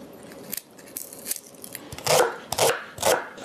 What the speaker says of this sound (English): In the meantime, I can chop up the onion.